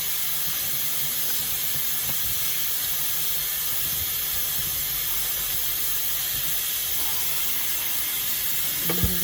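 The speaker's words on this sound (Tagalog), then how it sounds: "Hugasan natin ng maigi kasi maalat siya." Tap water runs in a steady, loud hiss while squid is washed at a sink, with faint handling sounds beneath and a small knock near the end.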